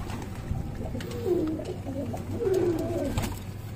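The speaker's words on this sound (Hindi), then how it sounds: "तो गाइस आप देख सकते हैं कितने कबूतर है जंगली कबूतर" Wild pigeons perched in rows on a rooftop give low, soft coos in two or three rolling phrases, fairly close and clear over a faint background hum.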